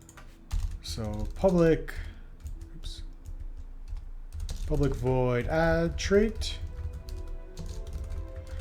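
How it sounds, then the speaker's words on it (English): Keys clatter steadily on a Logitech K800 non-mechanical keyboard, with soft, quick clicks running throughout while someone speaks over them during coding. "This is the Logitech K800. It's not a mechanical keyboard."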